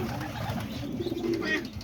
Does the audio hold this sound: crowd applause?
no